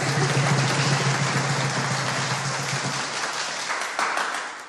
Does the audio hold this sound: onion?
no